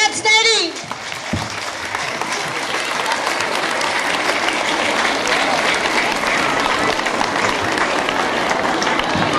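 Dense, steady applause from an audience at a school ceremony in Yerevan, rising after a brief musical note at the start and holding loud and even.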